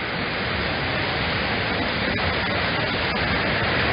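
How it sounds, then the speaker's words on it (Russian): Water rushing over a metal dam with a concrete base and tumbling in bubbling rapids below, a steady, loud, unbroken roar of falling water that fills the whole scene without pause. "Вода с пузырями спускается вниз."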